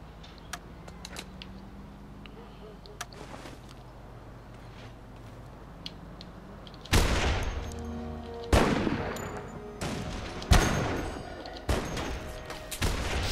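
Gunfire in the video game The Saboteur: faint ambient game sound first, then loud, close bursts of shots in several separate volleys over the last six seconds, without talk.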